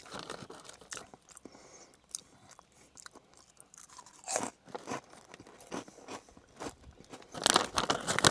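Crunchy steak flavored Cheetos being bitten and chewed close up, a run of sharp crackling crunches with quieter chewing between and a louder burst of crunching at the end, with no talking.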